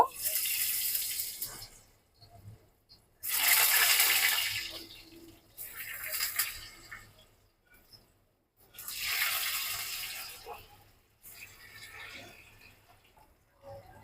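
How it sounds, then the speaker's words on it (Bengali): Potato French fries dropped one after another into hot oil in a home kitchen, each drop setting off a loud burst of hissing sizzle that fades between additions, about four surges in all. "তেলটা গরম হয়ে গেছে এবার আমি একে একে ফ্রেঞ্চ ফ্রাইগুলো দিয়ে দিব"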